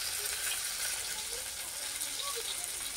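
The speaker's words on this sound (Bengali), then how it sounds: "এই যে গাইস আমি মাছগুলোকে ভেজে নিচ্ছি" Snakehead fish frying in a pan of hot oil, a steady, soft hiss and sizzle that holds evenly from start to finish.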